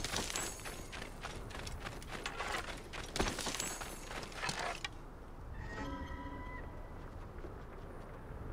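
Horse hooves clip-clop in a quick galloping rhythm in the Assassin's Creed Origins video game, with dense game sound effects, before fading to a quieter scene with soft tones and faint ambience.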